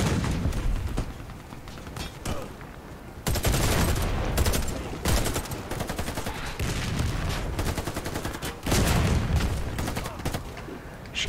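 Gunfire rattles through a free first-person shooter video game, with sustained automatic bursts and overlapping shots, some heavier and louder, filling the whole stretch almost without a break.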